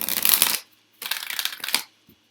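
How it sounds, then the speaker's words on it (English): Tarot cards being shuffled by hand at close range, two bursts of crisp riffling flutter separated by a short pause, then a faint tap. "One more shuffle for you."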